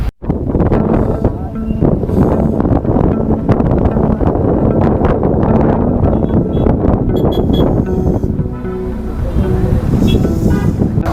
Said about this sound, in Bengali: এখানে এত হাওয়া দিচ্ছে আর এত ঠান্ডা না, মানে পুরো গা কাঁপিয়ে দিচ্ছে